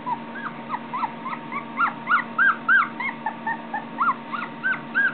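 A puppy whimpering and yipping in a rapid run of short, high whines and yelps, some clustered in quick bursts, faint to moderate and close, over a steady low hum with no talking.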